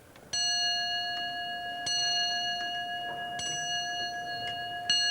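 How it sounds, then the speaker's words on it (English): A clock mechanism's hammer strikes a bell four times at even intervals, each ring sustaining bright, clear overtones until the next strike. "drive another mechanism to hammer on the bell"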